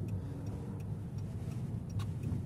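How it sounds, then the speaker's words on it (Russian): A car's turn-signal indicator ticking at an even pace inside a driving-school car on a Khabarovsk route, the clicks soft and regular over a low engine rumble, with no voices. "Включи поворотник."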